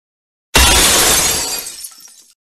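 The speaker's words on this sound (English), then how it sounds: "Oh no, you smashed my clone machine." A clone machine smashed in a game, giving one loud, sudden crash of shattering glass that rings out and fades over about two seconds, with no talking.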